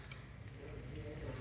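Ghee hits cauliflower frying in a pan, raising a loud, steady sizzle with crackling spatter that holds for the whole moment.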